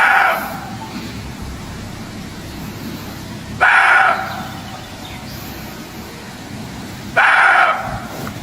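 A dog barks frantically in a forest, three loud bursts spaced about three and a half seconds apart over a steady outdoor hiss, with no talking.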